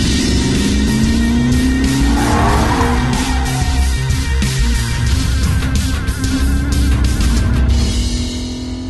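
A Lexus LC500 sports car roars loudly and continuously nearby, its engine pitch rising as it accelerates, with tire squeal mixed into the sustained rumble.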